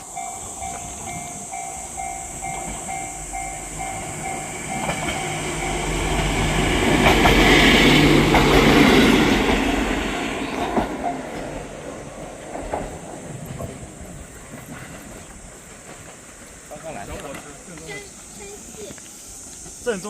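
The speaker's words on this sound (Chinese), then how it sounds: "正宗的小火车" A small one-car train passes nearby, its rumble and clatter swelling to a loud peak midway and fading, with a hissing tone and some voices in the background.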